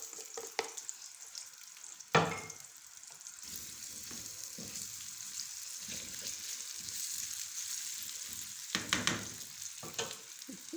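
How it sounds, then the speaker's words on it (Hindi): Baby potatoes fry in cooking oil in a pan with a soft, steady sizzle, broken by several louder scraping bursts as they are stirred. No one speaks. "इस तरह से इनको हम हल्का फ्राई कर लेंगे।"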